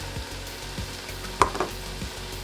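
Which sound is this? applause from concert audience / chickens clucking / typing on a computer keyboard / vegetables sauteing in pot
vegetables sauteing in pot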